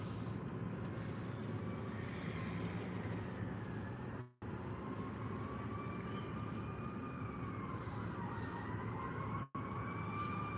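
Emergency vehicle sirens wail in the distance, rising and falling steadily over a heavy rumbling background that drops out briefly twice.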